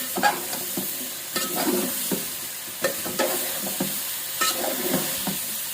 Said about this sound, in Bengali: নিচ থেকে একটু নাড়া দিয়ে দিতে হবে যেন লেগে না যায়।